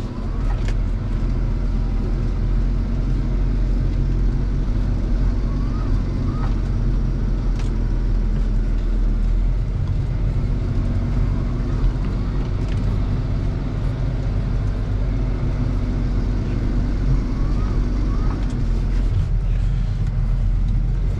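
A farm tractor engine runs steadily on a snowy Podlasie farm during a winter storm, a continuous close low rumble with a droning hum throughout, no talking over it.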